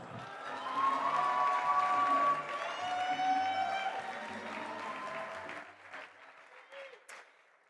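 An audience at a leadership luncheon applauds steadily, a dense wash of clapping with some cheering and voices mixed in, tapering off toward the end.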